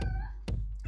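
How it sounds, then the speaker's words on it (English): A house cat meows in a short drawn-out call, fairly close, followed by a couple of soft thumps and a quick second cry. "Shut up, cat."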